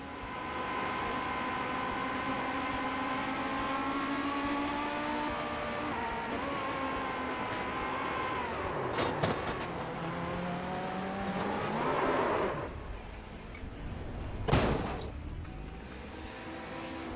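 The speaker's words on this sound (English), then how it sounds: "and then this causes a whole big accident." Stock race cars wrecking together in a multi-car pileup during a low-cost short-track series race, with steady engine drone, tire scrubbing and a couple of sharp crash impacts near the end.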